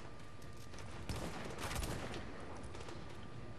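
Gunfire in The Division during a firefight in the Queens Tunnel Camp mission, steady crackling shots at moderate distance with one heavier report near the middle.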